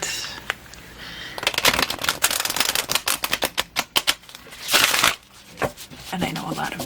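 A deck of tarot cards with a crisp snap is riffled close to the microphone, making rapid bursts of papery clicks and flutters, then a longer sliding shuffle, with brief pauses between runs.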